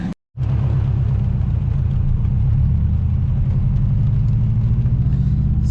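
Heavily modified car engine at a school car show, a loud continuous roar and rumble that starts abruptly after a brief cut and holds steady and near.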